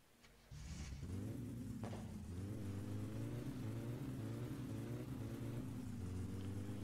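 In the video game My Summer Car, a car engine cranks and catches, then idles roughly with a steady low rumble and small popping bursts, revving up slightly a few times, close and continuous with no talk.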